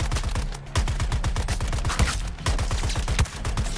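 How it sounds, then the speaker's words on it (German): Rapid gunfire from the video game Suicide Squad: Kill the Justice League, sniper rifle shots in sharp repeated bursts with loud punchy reports and dense action sounds, no talking. "Oh, die Sniper macht Spaß."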